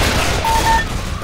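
A brief, loud burst of rapid gunfire in the zombie game Left 4 Dead 2, dense and close, lasts just over a second.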